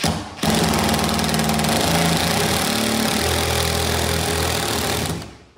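A power drill bores into a wall while a deer head is being hung indoors, a loud, steady buzzing whine that starts abruptly, runs continuously for several seconds and stops.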